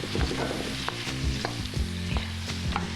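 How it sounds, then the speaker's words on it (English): Fresh vegan vegetables stir-fry in oil over high heat, with a constant sizzle broken by rhythmic scraping stirs from a utensil in the pan, close and with no talking. "Get a nice saute on it. We're gonna stir fry it."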